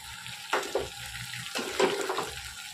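Hot water poured into a pan of prawn and potato curry arrives in two short splashing bursts, close and moderately loud, with quiet simmering between them.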